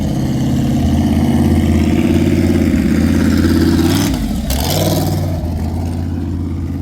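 Built, ProCharger-supercharged 392 Hemi Dodge Challenger on a drag strip shakedown run, a loud deep engine rumble that holds steady, then dips and rises again as the revs shift, with no talk.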